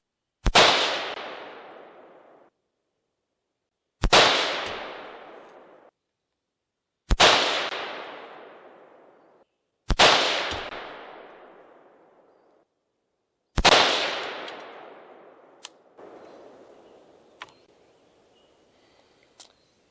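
Five loud, sharp rifle shots from a 16-inch barrel at a velocity test, spaced a few seconds apart, each with a long ringing decay outdoors, followed by a few fainter clicks and handling noises.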